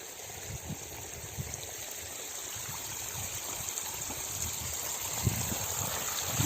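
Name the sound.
irrigation water flowing through a field channel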